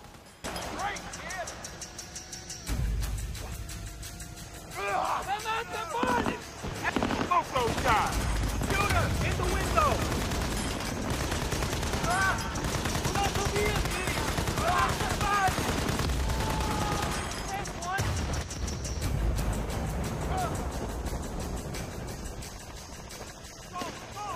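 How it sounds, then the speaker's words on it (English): Machine-gun fire rattles in bursts in the Battlefield: Bad Company video game, with rapid gunfire and clanking mechanisms over a steady game rumble while a player talks throughout. "What's my weapon? Machine gun?"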